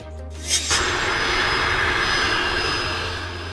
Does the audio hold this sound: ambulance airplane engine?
yes